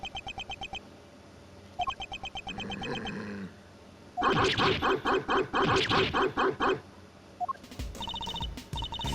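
Video game dog barking from Ace Attorney Investigations 2, the dog wearing a bell round its neck: bursts of rapid, evenly spaced synthesized barks come in several loud clusters with brief pauses between them.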